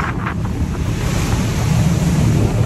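Strong mountain wind on Mt. Guiting-Guiting roars steadily across the microphone with a constant rushing, buffeting noise and a deep low rumble, with no voices.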